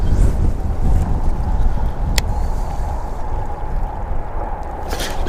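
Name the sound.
wind on the water while fishing from a boat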